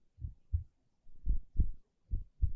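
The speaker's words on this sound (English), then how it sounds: "Listen to my slow heartbeat and drift away" A slow heartbeat thumps close and muffled, with three deep lub-dub pairs evenly spaced and silence between them.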